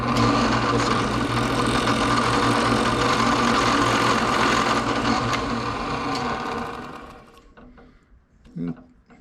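Drill press chewing corners off a piece of wood, a loud continuous motor drone with rough grinding, cutting off after about six seconds into quieter knocks and handling noise.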